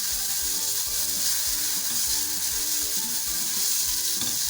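Chopped green chilli and ginger sauté in an oiled pan with a steady, close sizzle, marked by soft rhythmic stirring scrapes and no talking.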